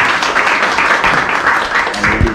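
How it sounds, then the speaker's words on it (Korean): An audience at a traditional liquor showcase in Damyang claps for about two seconds, a fairly loud, dense patter of hands with a few sharper claps near the end. "저희들 왔습니다. 큰 박수 한번."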